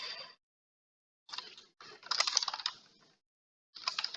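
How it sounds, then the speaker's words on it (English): Fingers type on a computer keyboard in quick bursts of close, clattering keystrokes separated by silent pauses, with no speech. "I'm actually typing out things."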